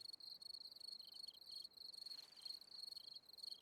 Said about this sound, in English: All these crickets chirping.